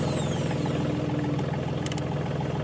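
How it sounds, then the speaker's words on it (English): Tractor engine at a barn-building site runs at a steady, loud idle with an even low chugging throb throughout, close by and with no talk. "We'll start up the tractor and then go put it away."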